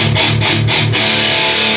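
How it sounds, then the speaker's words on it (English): Electric guitar played through a Moen Violent Metal distortion pedal with the gain at the 12 o'clock position, giving a Marshall-like crunch: a few strummed chords hit in quick succession, then one held chord ringing out loud and dense with no voices. "Got kind of a Marshall-y sound there."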